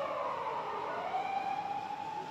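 A police car siren wails faintly in the distance on a city street outside JR Wakayama Station during an outdoor election rally, its drawn-out tone sliding slowly in pitch under a muffled street hubbub.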